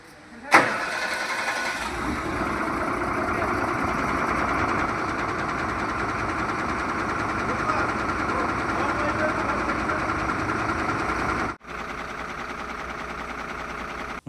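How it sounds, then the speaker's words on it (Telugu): A lorry engine cranks and catches after repair, then settles into a steady, loud idle that runs for about ten seconds before briefly dipping and carrying on, with someone talking over it. "మొత్తానికి బండి అయితే స్టార్ట్ అయిపోయింది."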